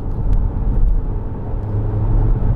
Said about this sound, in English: drop it down a couple of gears